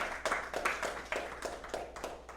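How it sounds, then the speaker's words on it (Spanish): Rhythmic clapping from a church congregation during a Spanish-language sermon, quiet and steady with evenly spaced claps that sound somewhat distant. "Denle el aplauso al Rey de Reyes."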